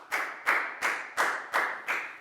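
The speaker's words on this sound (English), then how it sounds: "big round of applause for Bangpon, please, guys." Students in a primary-school maths classroom clapping together in unison, six or seven loud, evenly spaced claps in a steady rhythm, close by.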